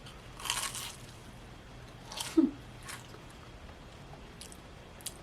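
Someone bites into a fried vegan pastry and chews it, with a few crisp crunches up close over a quiet background and no talking.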